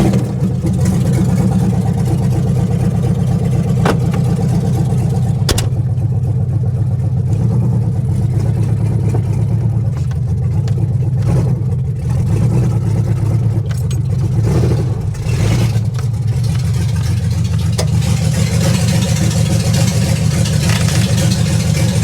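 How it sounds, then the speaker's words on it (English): Mini truck lowrider engine running with an open header exhaust and no muffler, a loud, raw, close-up rumble idling and occasionally revving, steady throughout the clip. "It is now worse because it is open header rather than just an exhaust with no muffler."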